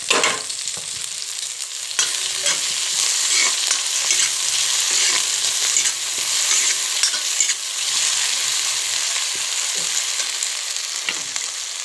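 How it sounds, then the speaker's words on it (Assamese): Ginger-garlic paste sizzles as it hits half-fried onions in hot oil, with steady crackling frying and repeated scraping stirs of a spoon in the pan throughout, no voices. "এতিয়া মই ইয়াতে দি দিম আদা ৰচুনখিনি"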